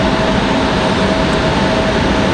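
A United airliner at Raleigh-Durham International Airport roars loudly and steadily during its departure, a thick, continuous jet rumble with a faint tonal whine riding on top.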